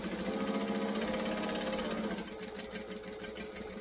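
A sewing machine stitches and backstitches on a sewing project, running in a fast steady whir that shifts partway through to a choppier, pulsing rhythm as it reverses direction.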